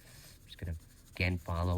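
Charcoal rubbing and scratching across paper while shading a skull drawing, a soft, steady, close-up scraping that sits faintly beneath bursts of a voice.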